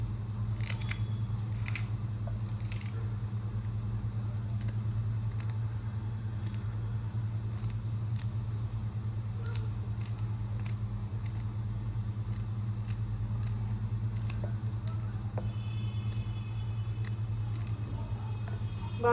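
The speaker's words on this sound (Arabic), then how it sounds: "هنبدأ بقى نقطع الفلفل ده كده اهو بسرعة جدا اهو" Quick, repeated chopping of a bunch of peppers held together, rendered as a run of sharp, brief cuts against a steady low hum, with no talking.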